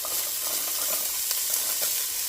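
Onions, carrots and celery sizzling in hot olive oil for minestrone soup, a steady close hiss of frying with faint crackles and no talking.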